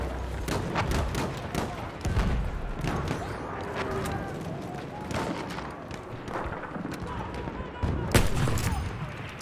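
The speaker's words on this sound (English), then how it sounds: "Someone's on our right shooting us." Enemy gunfire in Battlefield 1, sharp scattered shots and heavier booms at irregular intervals amid a busy battlefield din, with a few louder cracks standing out near the end.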